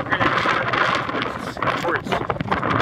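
Strong gusty wind on a mountain summit near Caples Lake and Red Peak, buffeting the microphone with loud rumbling rushes throughout while a person talks.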